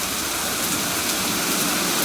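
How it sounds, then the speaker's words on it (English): Steady heavy rain in the video game Lunacy, a dense, loud, even hiss of drops on surfaces that fills the short stretch without pause or voices. "The real problem here is this rain."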